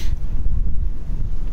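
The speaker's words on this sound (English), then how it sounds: "It's a bit windy." Wind gusts across the microphone on a chilly, sunny day outdoors, a steady loud low rumble and buffeting lasting throughout with no talking.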